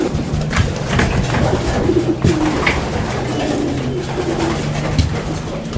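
Racing pigeons, the old birds, coo and flutter close by as they are let out of their loft, a loud, continuous chorus of low throaty calls with sharper wing sounds mixed in.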